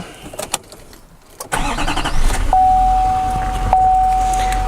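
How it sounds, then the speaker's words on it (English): Truck engine cranking and catching, starting after some handling clatter, then settling into a loud steady idle with a faint electronic tone over it. "Now I'm going to start the truck up."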